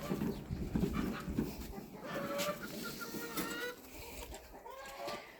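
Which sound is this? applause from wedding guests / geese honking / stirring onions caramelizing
geese honking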